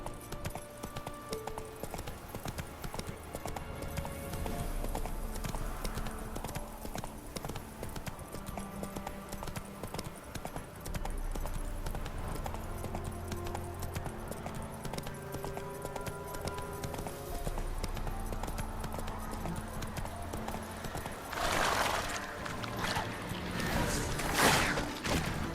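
Roach, the horse in The Witcher 3, trots and gallops, its hooves beating in steady rhythmic clip-clops. Game music and ambience play underneath, and harder thuds and louder hoof strikes come near the end.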